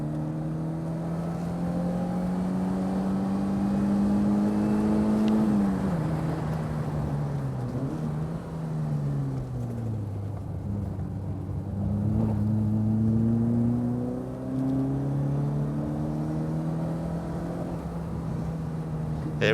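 A Fiat Cinquecento hatchback drives a lap of the Curborough sprint course, its small engine heard from inside droning continuously and loudly, revs climbing and dropping through gear changes and braking.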